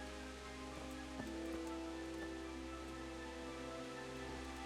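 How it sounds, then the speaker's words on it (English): Heavy rain pouring down in the medieval video game Kingdom Come: Deliverance, a faint steady wash of rainfall over a low continuous hum, with no talk. "and it is pouring down rain"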